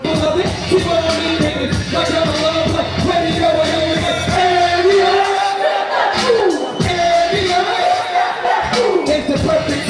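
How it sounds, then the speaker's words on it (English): A party crowd cheers, yells and whoops nonstop, loud and close, with overlapping voices and shouts packed densely throughout. "Everybody in the crowd wilding."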